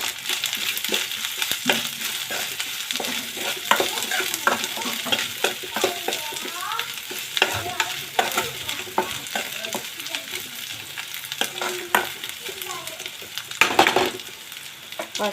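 Onions fry with ginger paste and turmeric for a tomato egg curry, giving a steady close sizzle broken by repeated scraping stirs of a utensil in the pan.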